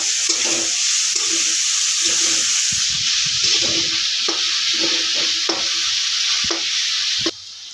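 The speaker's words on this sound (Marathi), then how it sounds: "त्यामध्ये टाकायचे आहे हिरवी मिरची असं परतून घ्यायचं आहे" Green chillies sauté in a pan for a cauliflower paratha, loud hissing sizzle with soft stirring scrapes and occasional utensil taps against the pan, up close and without voices.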